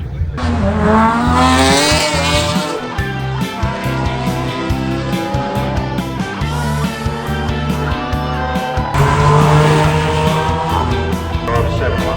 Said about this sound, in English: It's only early in the morning, so the cars are just firing up